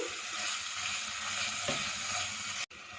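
Minced meat frying over medium-low heat gives a steady, close sizzle that holds evenly throughout, with a brief dropout near the end and no talking.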